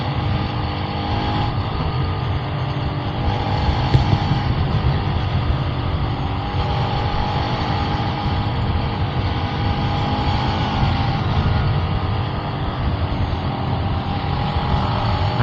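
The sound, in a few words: Bajaj Rouser RS200 motorcycle riding on road test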